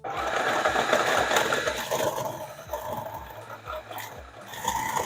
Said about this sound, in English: we're going to put them in this processor and grind them up